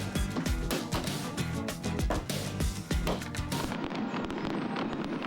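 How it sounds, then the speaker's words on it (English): Fireworks show after a Cubs at Reds baseball game, a rapid barrage of sharp loud bangs and crackles in dense succession, tapering into quieter pops at the end. "Cue the fireworks."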